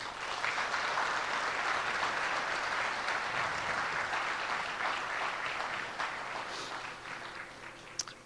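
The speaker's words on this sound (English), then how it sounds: "Let's give another big applause for them." A large crowd at a business summit in Bangladesh applauds honored guests with sustained, loud, dense clapping that holds steady for several seconds and then tapers off slightly near the end.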